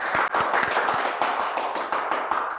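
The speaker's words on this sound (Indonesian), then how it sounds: "Oke, tepuk tangan dulu." Applause from a campus audience at a photography student event, a dense patter of many hands clapping steadily at moderate loudness, heard alone without speech.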